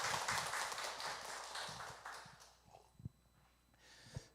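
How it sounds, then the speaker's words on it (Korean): A church congregation at a Sunday worship service claps for God, a dense round of applause from many hands that slowly dies away into a few scattered claps and soft room noise. "박수 한번 칠까요 하나님께?"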